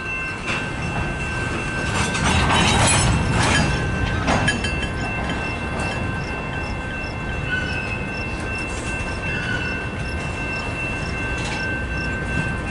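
A CN freight train led by locomotives CN 3045, CEFX 1020 and CN 8878 idling on the track at Battle Creek, Michigan, with a steady rumble and several sharp clanks and squeals early on, plus a faint tonal hum throughout.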